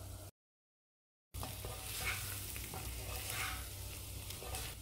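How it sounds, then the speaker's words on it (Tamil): Chilli, coriander and turmeric powders sauté in a pan with a steady soft sizzle and occasional stirring scrapes, close and moderately quiet, after a brief silent gap at the start. "பச்சை வாசனை போக வதக்கிட்டு 2 டம்ளர் அளவு தண்ணி சேர்த்துக்கிறேன்"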